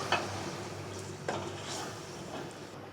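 Yogurt being stirred into chicken in a cooking pot: faint scraping and soft clinks of a spoon against the pot over a low steady hiss, with a few brief sharper taps.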